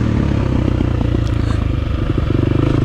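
A KTM 350 XC-F dirt bike races along a dusty, rocky off-camber trail on Graves Mountain in slick conditions, its engine loud and close with a pulsing rasp and clattering from rocks underneath.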